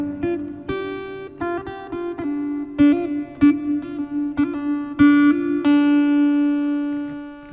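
A Zoom A1 Four multi-effects pedal adds hall reverb to single instrument notes played over a steady drone, each note ringing out and trailing into a smooth, roomy decay.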